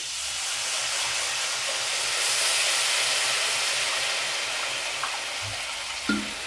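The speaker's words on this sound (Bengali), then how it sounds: "আমি জল দিচ্ছি আন্দাজ মতো" Water poured into a hot kadai while cooking Bengali tel koi curry sets off a loud, steady sizzling hiss that stays close and constant, with small clinks near the end and no talking.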